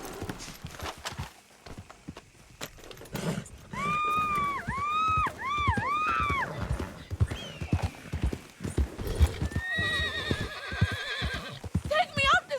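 Horses in Red Dead Redemption 2 clopping along with steady rhythmic hoofbeats, several loud whinnying neighs rising and falling over them, close by, with a voice speaking at moments.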